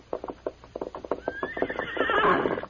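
A horse, one of two led along a trail in an old Western radio drama, clip-clops in a steady rhythm of hooves, then breaks into a long, loud whinny near the end, with no talking.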